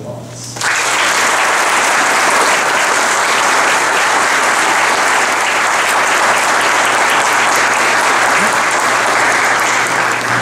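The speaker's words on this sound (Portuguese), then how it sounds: "gostaria de pedir aos presentes que o saúdem com uma salva de palmas" A courtroom audience bursts into applause at the installation of a civil court, starting abruptly and then holding a loud, even roar of clapping for about ten seconds.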